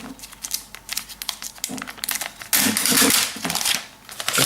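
Plastic sleeve crinkling and rustling as an Apple Wireless Keyboard is pulled out of it, with soft handling noises building to a louder burst of crackling near the end.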